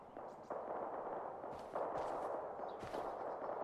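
AK-47 fire in the military video game Arma 3 sounds as several sharp, somewhat distant reports spaced irregularly over a constant background rumble.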